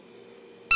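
A squeaky dog toy gives one short, loud squeak at the very end after near silence.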